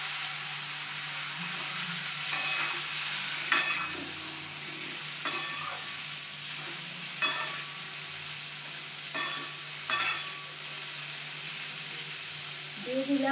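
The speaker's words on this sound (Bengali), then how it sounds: "এই স্টেজে আমি এইখানে সমস্ত সবজিগুলো যেগুলো আমি কেটেছি এগুলো সব এখানে দিয়ে দিলাম।" Chopped carrot and beetroot sizzle in a pan for a carrot and beetroot curry, a steady bright frying hiss with several scraping stirs at irregular intervals and no talk.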